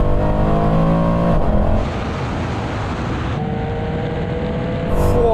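A Mercedes-AMG C63 Black Series and a BMW M3 run a rolling race from 50 mph in third gear, with loud, close engine roar, gear shifts that change the tone, and rushing wind noise.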